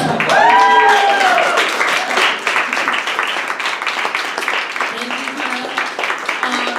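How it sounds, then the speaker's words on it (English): A live storytelling show audience applauds in loud, dense, sustained clapping that fades slightly over several seconds, with a voice heard briefly at the start. "Please give them one more round of applause."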